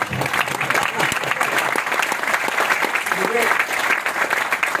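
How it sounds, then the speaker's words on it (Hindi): Audience at a Hindi veer katha poetry recitation breaking into dense, continuous applause, a steady wash of many hands clapping at once, with some voices blending into the crowd noise. "तालियां कुछ आप लोग आधे मन से बजा रहे हैं"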